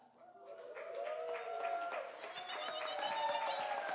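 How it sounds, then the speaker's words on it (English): An audience at a live East Bay event applauds new members called to the stage, with dense clapping and rising whoops and cheers that swell over several seconds. "a big round of applause"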